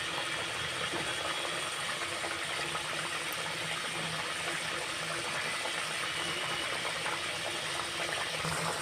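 A vegetable curry of cauliflower boils in a pan, a dense, even bubbling and crackle that carries on without a break, with a faint low hum underneath.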